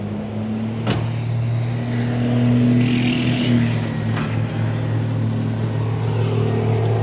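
A chopped 1950 Buick lead sled engine idling roughly, a steady low drone with an uneven throb, plus a sharp click near one second and brief rattles over the idle.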